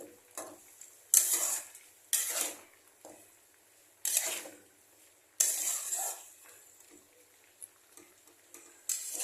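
A spoon stirs a vegetable curry of jackfruit in a pan while the water cooks off, giving scattered, separate scrapes and sloshes, about six strokes spaced by quiet pauses, close and fairly soft.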